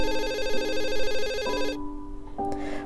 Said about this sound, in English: My phone rang on the corner of my desk